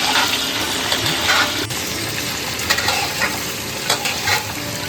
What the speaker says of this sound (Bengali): এবার ওই একই তেলে দিয়ে দেব পটলগুলো দিয়ে ভাজতে থাকবো।